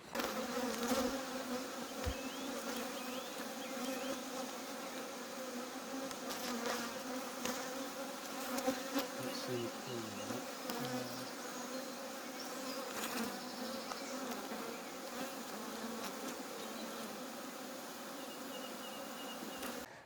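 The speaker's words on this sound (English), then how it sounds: "Hopefully we can hunt down that colony that swarmed onto this hive." A honeybee colony in an opened beehive hums during a bee inspector's hive inspection, a dense, steady buzz of many bees that holds close and unbroken for the whole stretch, with no voices.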